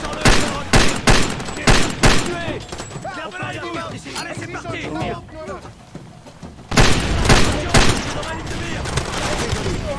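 Gunfire exchange in Far Cry 2: loud, close, rapid bursts of automatic weapons and single shots, with a dense stretch of overlapping fire in the middle before heavy bursts return.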